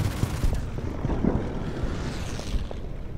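Aircraft strafing gunfire in the Pacific war strategy game Order of Battle Pacific, a series of sharp rapid pops and thuds under a windy, rushing rumble, with no talk.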